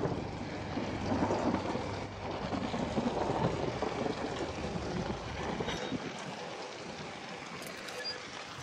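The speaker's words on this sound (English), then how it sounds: "There has to be a really good storm." A thunderstorm with heavy rain in the horror video game Outlast: a loud, sustained wash of rainfall and low rumbling thunder with gusty noise, easing slightly toward the end.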